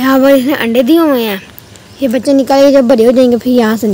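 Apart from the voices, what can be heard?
None of the usual background noises is heard.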